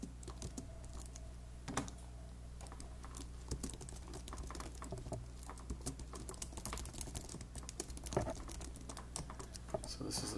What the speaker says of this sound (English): We have to keep typing.